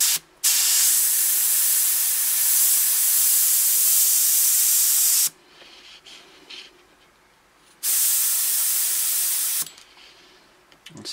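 A Badger airbrush sprays in long, steady hissing bursts with the trigger eased back for fine detail, about five seconds on, a short pause, then two more bursts, close and loud.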